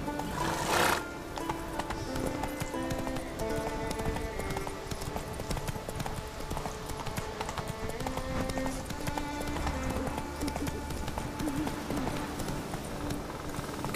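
Horse hooves clip-clopping at a run across open ground in The Witcher 3: Wild Hunt on the Isle of the Mists, steady and close under a continuous bed of orchestral game music, with a brief neigh near the start.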